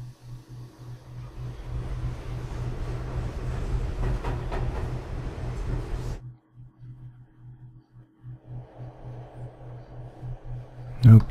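A train rumbles along in the Silent Hill 3 video game, a loud, steady rolling drone with a low hum that drops to a quieter, sparse rumble partway through.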